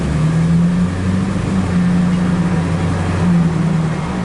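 A Ford F250 pickup with an automatic transmission revs steadily while in drive, a loud, close engine drone with a low hum whose pitch steps slightly as the gears shift.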